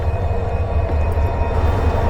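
The Turna Express, a semi-nonstop intercity train, rumbles in a steady low roar from inside a carriage near the end of its run, loud and continuous, with no talk.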